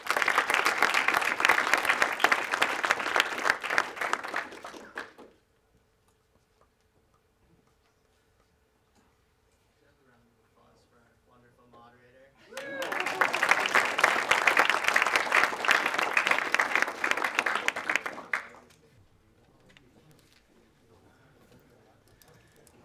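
Two bursts of audience applause for Lizzie at a university undergraduate economics debate, each about five seconds of dense clapping, separated by a quiet stretch with faint ticks and shuffling.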